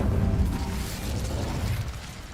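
An Incendio fire spell cast in Hogwarts Legacy bursts out as a loud whooshing, crackling rush of flame with a low rumbling punch that gradually fades over a couple of seconds.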